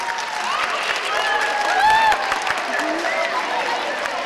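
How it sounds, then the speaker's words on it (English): An elementary school audience at a President's Day and Black History Month celebration claps loudly and continuously, with scattered cheers and voices mixed into the applause. "let's give her a round of applause."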